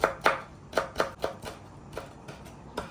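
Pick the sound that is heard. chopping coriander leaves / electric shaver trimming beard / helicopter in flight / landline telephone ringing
chopping coriander leaves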